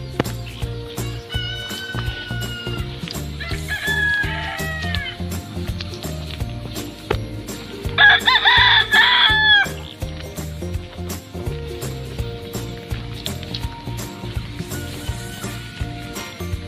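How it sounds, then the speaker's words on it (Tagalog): Free-range native chickens, with turkeys nearby, call on a farm just after rain. Repeated clucks and drawn-out calls rise over a steady, busy background of other birds, close and fairly loud. "native chicken."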